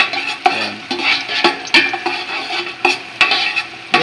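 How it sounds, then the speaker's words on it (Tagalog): Garlic and onion are being sautéed in a pan, with a bright, continuous sizzle broken by repeated scraping knocks of a utensil stirring against the metal, close and fairly loud, with no speech. "Nagigisa ng bawang tsaka sibuyas."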